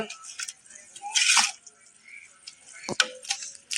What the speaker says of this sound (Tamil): அப்படியே ஒரு கிண்டி கொடுத்துருங்க